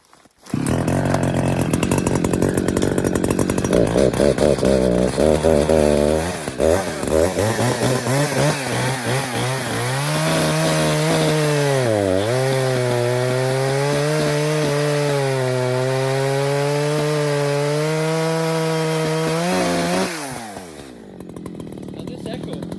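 An Echo chainsaw with a 24-inch bar cuts an 18 to 20 inch tree, its engine loud and close, revving and bogging under load as it saws through wood before dropping off at the end.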